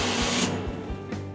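A sewing machine edges the pockets of a homemade hoodie, its motor whirring steadily with a rapid mechanical pulse, close and clear with no voices.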